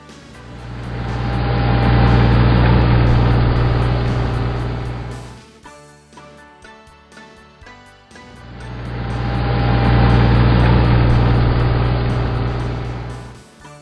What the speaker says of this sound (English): Tractor with a baler.